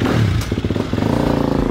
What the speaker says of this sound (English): ride some dirt bikes